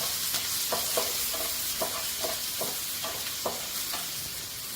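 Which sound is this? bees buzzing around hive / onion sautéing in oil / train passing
onion sautéing in oil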